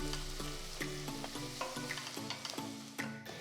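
Sliced onions and green chillies fry in a pan for tomato rice, a soft continuous sizzle under repeated rhythmic spatula strokes and taps, quiet and close.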